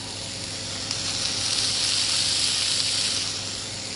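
Steady sizzling of yoghurt-marinated chicken kebab skewers frying in a hot pan, with a continuous close hiss and no talking.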